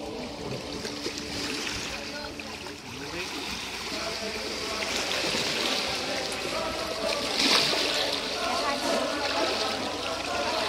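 Water splashing and trickling outdoors on a Cornwall camping trip, a steady moderate wash of sound with a brighter splash near the end, while people talk over it.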